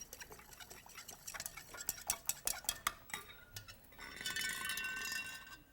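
A spoon stirring baking soda into water in a glass container, with quick tinkling clinks against the sides, then a brief scrape and shuffle of glassware being moved, fairly close, no talk.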